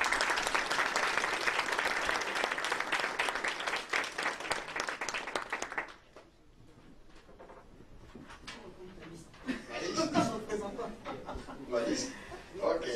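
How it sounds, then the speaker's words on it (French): Audience at a political address in Montréal applauding a team being introduced, a dense wash of clapping for about six seconds, then scattered claps, chuckles and a renewed burst of applause and murmuring voices. "vous pouvez les applaudir très fort"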